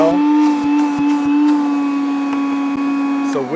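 A Makita cordless two-speed vacuum runs close by with a steady, droning motor whine and a few faint clicks, winding down in pitch right at the end.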